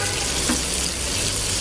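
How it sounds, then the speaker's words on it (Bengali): Chopped onions dropped into hot oil left from frying pomfret fish, a dense, loud, continuous sizzle that fills the whole moment without pauses, with no clear voices. "এখন আমি এই তেলের মধ্যে পেঁয়াজ কুচিগুলো দিয়ে দিচ্ছি"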